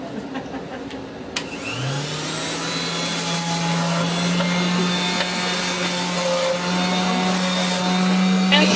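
Painted wooden furniture is distressed with a power sander in a workshop, giving a steady close droning whir with a rising motor tone, preceded by a brief scrape or knock before the sander spins up.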